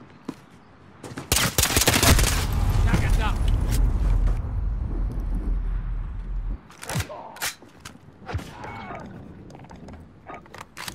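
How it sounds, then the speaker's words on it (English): Heavy automatic gunfire in a modern military shooter game erupts in a loud sustained burst lasting several seconds, then breaks into scattered sharp shots and mechanical clicks, with a voice shouting in between. "I'm shooting him!"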